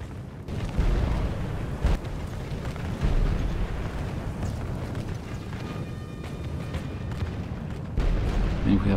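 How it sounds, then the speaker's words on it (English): Artillery fire from a strategy video game mod set in the Imjin War of Korea, shelling Mongol troops below: a continuous rumbling battle din with repeated low booms and bursts, steady and fairly loud throughout. "So artillery has started hitting the Mongols who are down below."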